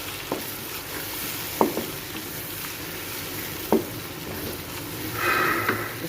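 Arbi masala sizzling and frying steadily in a pan after yogurt is added, a continuous close hiss broken by a few sharp clinks of a spoon against the pan.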